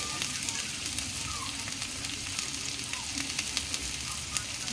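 Garlic and onion fry together in a large pan for sinangag, with a soft, steady sizzle and crackle and small pops scattered throughout, fairly quiet and close.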